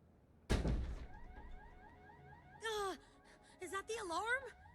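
A door is forced open in the video game Dustborn, with a hard impact followed by a wailing, rising-and-falling alarm tone that cycles repeatedly, sounding loud and close.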